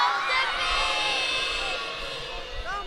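Children shouting loudly together at a Sinterklaas parade in Dokkum's town centre, a dense sustained crowd roar at some distance with high overlapping voices.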